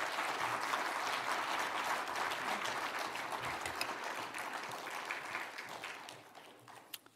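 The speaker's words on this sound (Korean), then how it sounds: "나오실 때 더 큰 환영의 박수 부탁드립니다" A church congregation applauds to welcome a pastor coming forward to give an offering blessing and a sermon. The clapping is dense and sustained, then fades gradually toward the end.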